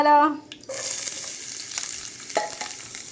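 Onions fry in ghee for a sweet wheat aleesa dish. A short tonal sound opens, then a steady close sizzle takes over, with a couple of stirring scrapes.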